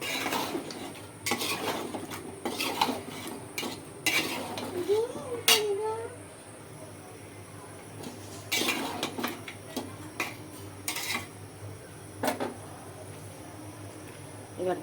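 Vegetables stir-fried with fish in a pan, a metal spatula clattering and scraping against the pan in scattered bursts, with quiet background hum and a voice briefly heard.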